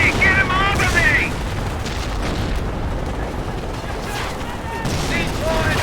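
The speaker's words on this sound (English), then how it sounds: "Taking automatic fire!" Automatic machine gun fire and explosions in the World War II strategy game Company of Heroes, dense sustained battle noise with shouted soldier voices over it.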